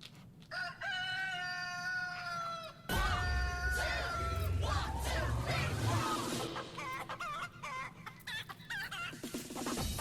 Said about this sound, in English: Don't mess with the chicken.